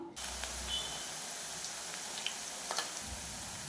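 Murukku dough sizzles steadily in hot oil over a medium flame. The soft, continuous bubbling hiss stays even and fairly quiet throughout, with a few faint clicks and no voices.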